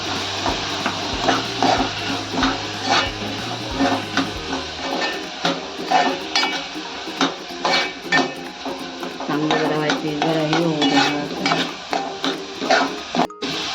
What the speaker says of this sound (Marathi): अर्धा चमचा हळद घालूया. ढवळून घेऊया.